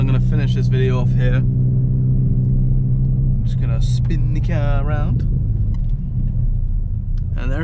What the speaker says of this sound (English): I'm just going to spin the car around.